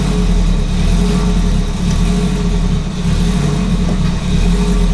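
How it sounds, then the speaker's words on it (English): A rebuilt all-wheel-drive Honda Civic with a K-series engine idles steadily up close, a loud, even drone with a slight lift in revs partway through, no voices over it. "The car's back up and running."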